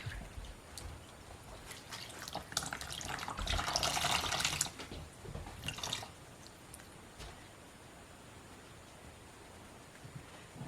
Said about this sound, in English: I'm just rinsing it in cool water.